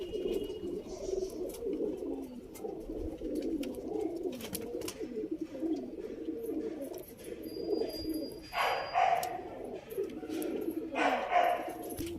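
A Guldar pigeon, a medium-sized male in its second year, coos in low soft repeated phrases amid constant background bustle, with a couple of brighter call bursts near the end.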